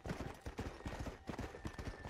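Horse hooves galloping across open ground in Red Dead Redemption: Undead Nightmare, a steady rapid clip-clop rhythm of thudding beats running close and loud throughout.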